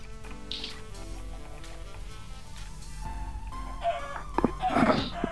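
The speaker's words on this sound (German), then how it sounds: "Da ist ein Huhn, das muss ich jetzt irgendwie schlachten." A chicken in the Minecraft video game gives short clucks against a quiet game background, with a brief louder burst of clucking toward the end.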